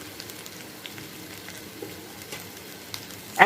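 Okra pieces fry in a pan over medium-low heat with chili powder and salt, giving off a soft, steady sizzle with faint crackles. A louder clink sounds at the very end.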